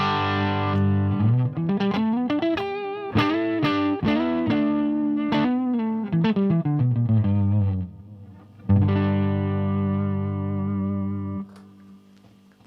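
Stratocaster electric guitar played slightly dirty through a Marshall 50-watt plexi amp with delay in the loop, a loud run of single notes and chords, then sustained ringing chords near the end.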